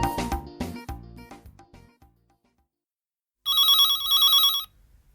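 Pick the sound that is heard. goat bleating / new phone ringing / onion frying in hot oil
new phone ringing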